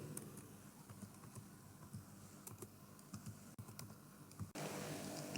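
Keys clacking on a computer keyboard while HTML code is entered, a steady run of quick, light taps with short pauses between bursts, close and fairly quiet over a faint room hiss.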